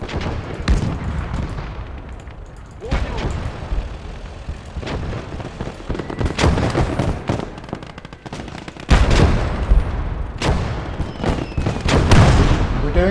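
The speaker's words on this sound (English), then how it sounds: "The mortars are still firing and they're staying at a distance." Mortars and gunfire in the WWII strategy game Gates of Hell: Red Star Rising, a continuous battle din of crackling shots, machine-gun bursts and heavy booms, with a louder surge of blasts partway through, no voices.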